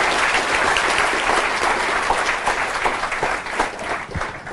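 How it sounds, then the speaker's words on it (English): A large audience applauds to welcome Marc back at Stanford, a dense, steady wash of clapping that holds loud and even for several seconds. "let's give him a warm round of applause"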